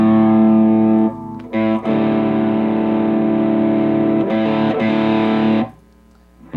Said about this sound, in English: I'm going to turn my pedal on here, and I'm going to slowly bring the distortion up